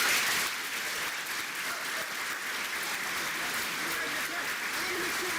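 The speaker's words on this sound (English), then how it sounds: "please give a warm round of applause" Audience applause at a Delta Upsilon fraternity house dedication ceremony in North Dakota, a steady, fairly faint wash of clapping lasting several seconds.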